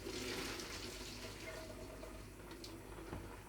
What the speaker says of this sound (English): And then I'm going to drain the pasta.